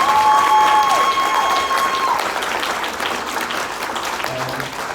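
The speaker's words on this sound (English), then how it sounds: "I just want a round of applause for the full-time staff." An audience applauding the full-time staff at a speech, a dense wash of clapping that starts loud and slowly tapers across the clip while a short electronic tone sounds near the start.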